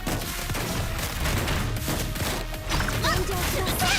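Enemy cannon attack in the Blue Archive video game, heard as dense, loud blasts and crashing impacts over continuous game sound effects and music, with a few brief tonal chimes near the end.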